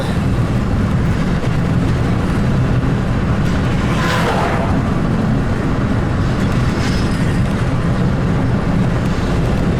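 A freight train passes close by, with a constant heavy rolling rumble and rail clatter filling the whole stretch as it is recorded from a car window, and a brief brighter squeal rising near the middle.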